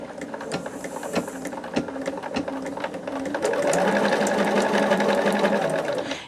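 A sewing machine stitches a scrap quilt at close range, its needle tapping in rapid repeated runs with a mechanical whir that grows louder and more continuous toward the end.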